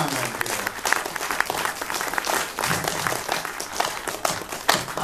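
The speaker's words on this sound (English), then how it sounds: "we'd like to give a round of applause" Applause from a conference audience at a heavy metal and popular culture event, a dense, sustained patter of many hands clapping at moderate distance, swelling and dipping over several seconds.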